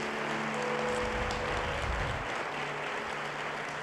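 A church congregation claps together in a soft, steady wash of applause, heard fairly faint and distant with a low rumble underneath, continuing evenly throughout.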